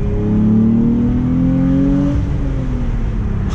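A Genesis 3.8 engine accelerating hard, its pitch climbing smoothly in a loud rising whine and growl before dropping back as the revs fall, heard close and alone.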